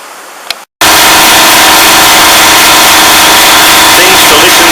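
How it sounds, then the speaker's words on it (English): Faulty air compressor that fails to unload, giving a loud, steady broadband roar that starts abruptly after a brief quiet moment and runs on continuously with a constant hum underneath. "That's a sound you don't want to hear. If you hold, that's a not unloaded compressor or a problem with the capacitor."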